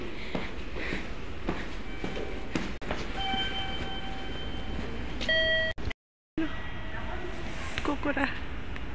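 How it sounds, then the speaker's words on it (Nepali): A train at Kokura station in Japan rumbles steadily with a sustained electronic tone and brief beeps, while people chat nearby throughout, and the sound briefly cuts out. "ट्रेनमा चढेको साथीहरु लु लु आइयो कुकुरा स्टेसन"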